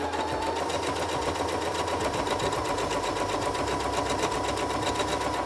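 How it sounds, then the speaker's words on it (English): A sewing machine stitches a pillowcase with French seams in a steady, continuous rapid whir that stays at an even, fairly loud level throughout. "My sewing machine might be loud."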